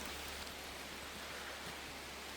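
Heavy autumn rain falling in a forest, a dense, steady hiss of drops that stays even throughout, fairly quiet with no voices.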